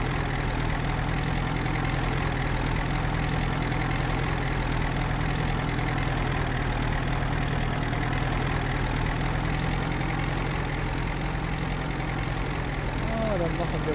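A farm vehicle engine runs at full speed in Farming Simulator 22, a steady, loud, unbroken drone that holds the whole way through, with talk over it.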